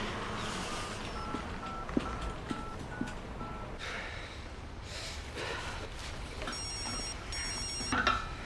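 A telephone rings in a brief, high-pitched double burst near the end. It sounds faint and sits under a busy room ambience.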